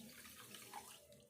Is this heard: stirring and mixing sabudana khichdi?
no